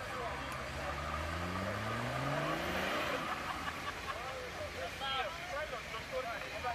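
An off-road car engine revs up and down at an off-road competition, rising and falling in pitch at close range, with people talking over it.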